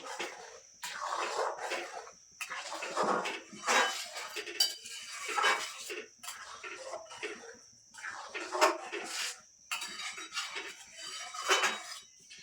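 A spoon works through thick homemade tomato sauce, made with onion, garlic and ginger, in a pot on the stove. Repeated scraping and clinking strokes come in an uneven rhythm, close and moderate in volume, with no voices.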